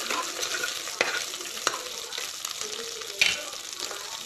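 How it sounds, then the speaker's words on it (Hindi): Cumin seeds and dry curry leaves fry in a pan with a soft continuous sizzle, marked by a few sharp crackles and clicks from a stirring utensil; no talking. "सबसे पहले इसमें जाएगा ये जीरा और इसमें मैं ड्राई करी लीव्स डाल रही हूँ"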